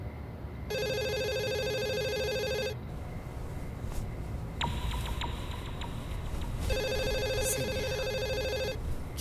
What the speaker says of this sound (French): tu n'entends pas le téléphone?